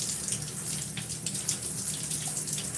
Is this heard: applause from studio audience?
no